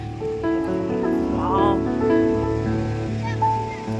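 Sea waves wash onto Chandrabhaga beach near Puri as a steady, moderately loud rushing wash. Voices and talk run over it throughout.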